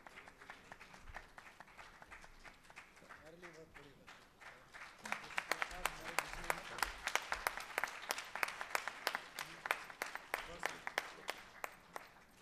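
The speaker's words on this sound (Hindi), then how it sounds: "जोरदार तालियां इस बात." A concert audience at an evening of Sindhi music in Delhi claps: scattered hand claps and a faint voice at first, then the applause swells into loud, sustained clapping with sharp individual claps standing out.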